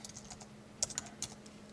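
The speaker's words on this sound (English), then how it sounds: "Let's type in C sharp." Typing on a computer keyboard to enter a search query: a handful of faint, close key clicks in an irregular rhythm, with two slightly sharper taps, over a quiet hum.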